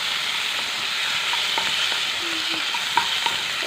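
Tomato, onion, cashews and garlic fry in hot oil in a kadai, giving an even, close sizzle with a few faint clinks of a spatula against the pan.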